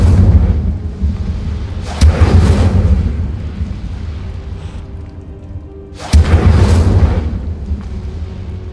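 The Incendio fire spell is cast twice in the Hogwarts Legacy video game, each a loud whooshing burst with a deep rumbling boom that tails off, separated by a quieter stretch of low ambience.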